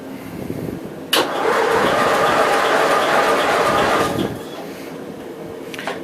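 A 1982 Gravely 8163-B tractor engine runs on full choke, rising to a steady, loud rumble for about three seconds before dropping back to a quieter idle.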